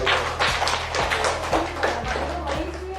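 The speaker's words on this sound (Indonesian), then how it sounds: "Tepuk tangan dulu." A group claps hands together in a rhythmic pattern during a school teachers' workshop session, loud and close, with talking and a low droning background tone underneath.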